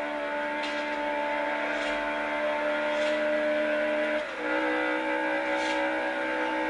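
Supercharged Honda S2000 engine in the racing game Forza Horizon, a steady tonal drone with a whining, harmonic character, holding at moderate loudness with a brief pitch dip partway through.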